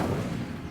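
An Incendio fire spell cast in Hogwarts Legacy bursts out as a dense, booming whoosh of flame, loud and close, fading slightly over under a second.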